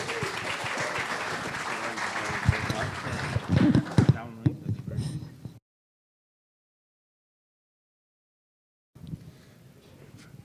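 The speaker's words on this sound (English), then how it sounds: "Give him a round of applause, please." An audience applauds a speaker, Andrew Keys, at a conference: dense, steady clapping that swells briefly and then fades out, followed by a gap of silence and faint room noise.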